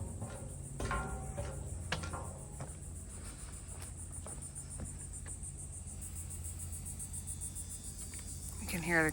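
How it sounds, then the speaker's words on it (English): Crickets chirp steadily at a creekside boat landing, a continuous high insect trill running the whole time with some faint outdoor background and brief clicks. "You can hear the crickets."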